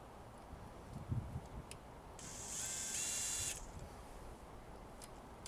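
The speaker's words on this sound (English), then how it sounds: "then I reached for the drill" A power drill tightening bolts on a Mk V Jetta TDI camshaft whirs in one short burst of about a second, fairly close, amid quiet background hiss with a couple of faint clicks.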